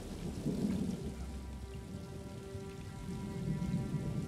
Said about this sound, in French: J'adore le son de la pluie est magnifique.